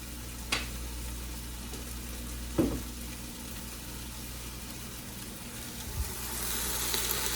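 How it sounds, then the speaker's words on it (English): Pork for carnitas searing in a pan, giving a steady close sizzle with a few brief knocks and thumps as the meat is turned, the hiss swelling louder toward the end. "you want to sear all 6 sides of this meat, because that kind of locks in the juices"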